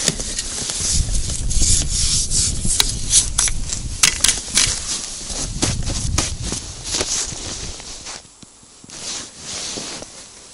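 A hand ice auger grinds through lake ice while ice fishing, a loud, close, rasping scrape with repeated crunchy bursts that fades out near the end.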